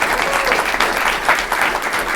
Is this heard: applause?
yes